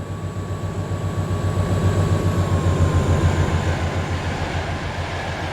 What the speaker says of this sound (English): Back at Swinderby, a 60 works loaded tanks through the station en route from Kingsbury to Lindsey.